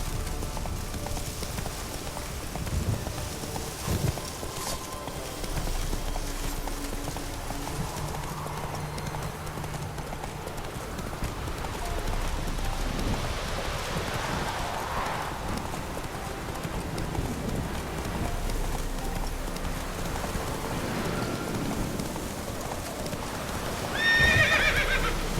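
A horse in The Witcher 3: Wild Hunt gallops with steady rapid clip-clop hoofbeats throughout, punctuated by neighing and whinnying, set against ambient game sound without speech.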